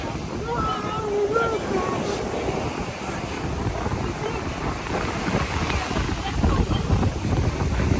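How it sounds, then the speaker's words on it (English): Ocean waves roll and break on a Florida beach near Tampa, a loud surging wash with heavy wind buffeting the microphone, while a person talks over the surf. "Make sure you don't get hit with a wave behind me."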